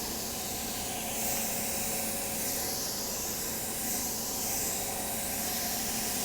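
Airbrush spray gun misting Fake Bake sunless tanning solution onto a client, a steady close airy hiss that swells and eases in gentle waves for several seconds, with no talking.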